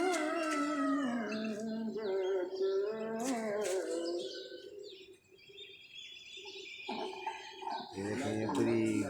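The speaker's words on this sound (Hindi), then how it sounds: "देखो ये जा रहे हैं कबूतर।" Pigeons flying over a rooftop loft, with bird calls and coos mixed among people talking nearby, then a quieter stretch and a low rumble near the end.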